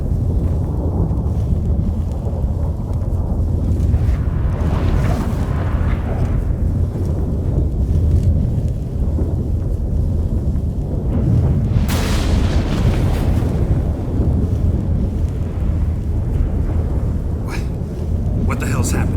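A thunderstorm rolls in during a Witcher 3 game scene, with loud, sustained low rumbling and booming that swells and surges continuously, alongside gusty roaring noise.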